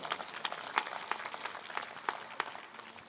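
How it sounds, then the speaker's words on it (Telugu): Church audience clapping at a Telugu sermon, a steady ripple of applause with sharper individual claps standing out, moderately distant and fairly faint, with no one speaking over it. "గట్టిగా చప్పట్లు కొడదాం."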